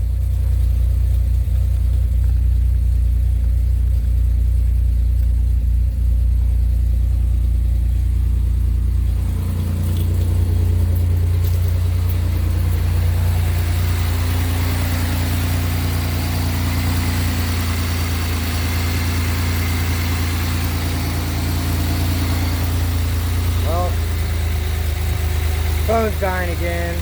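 A 2000 Pontiac Grand Prix with a 3.4 V6 idles steadily and loudly right after starting, following an oil change and ignition control module and plug wire replacement, a constant low rumble throughout with a faint higher whine.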